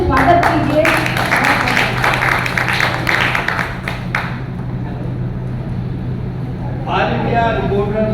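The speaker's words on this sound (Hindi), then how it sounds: "प्लीज आप उनका तालियों से स्वागत कीजिए" An audience at a journalists' event applauds in welcome, a dense burst of clapping for several seconds that fades out, with a public-address hum and voices around it.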